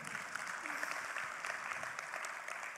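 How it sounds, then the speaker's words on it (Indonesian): Applause for Riwe Internasional from an audience at an Indonesian business seminar, steady dense clapping held at moderate level through the whole stretch with no break. "Sekali lagi tepuk tangan buat Riwe Internasional"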